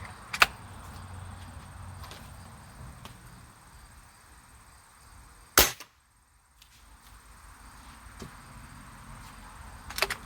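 Two sharp, snappy shots from a Beeman Black Panther spring-piston air rifle crack out at different moments over quiet backyard ambience, with a few fainter clicks between them.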